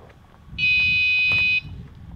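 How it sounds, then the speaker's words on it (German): A DolMo radiation dose-rate warning device sounding its yellow alarm: a single loud, steady high-pitched electronic tone lasting about one second over low background rumble. "sobald wir sehen, dass die Dosisleistung hochgeht und der Grenzwert überschritten wird, also er den gelben Alarm auslöst, was jetzt der Fall ist"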